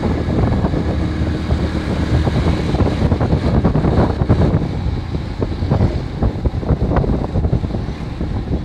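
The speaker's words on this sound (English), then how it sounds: "Sometimes the wind is so much." Strong wind buffets the microphone outdoors in a steady, loud roar with gusty swells that last throughout, with no voices.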